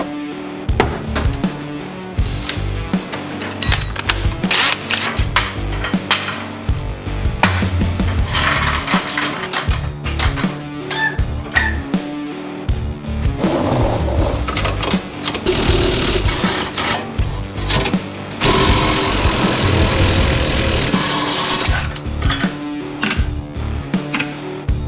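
Porsche 996 Turbo on a car lift being lowered in a garage, a busy continuous mechanical whirring and clattering with ratchet-like ticks, fairly loud and close, no talk.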